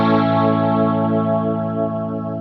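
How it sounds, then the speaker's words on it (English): Guitar run through a rotary speaker modulation effect on an Axe-Fx II XL+, set to a slow rate, a sustained chord swirling with gentle, slow pitch and volume undulation, steady and close with no talk. "my absolute favorite modulation effect is the rotary speaker"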